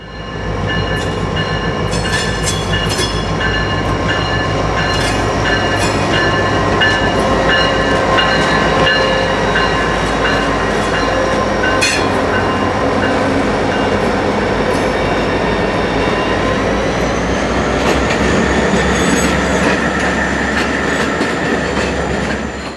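An IHB local freight train rolls by on the tracks, loud and close, with a steady clickety-clack of wheels and rail noise and occasional metallic squeals over the whole passage.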